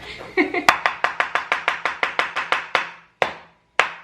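A knife mincing on a cutting board in a home kitchen: a quick run of about a dozen sharp, evenly spaced chops, then two slower final strikes, close and crisp, with a brief voice at the start.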